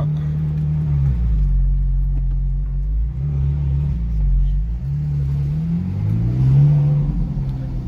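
A Ferrari 458 V8 with Capristo exhaust hums and revs close by, its pitch rising and dipping several times in a steady, throaty drone.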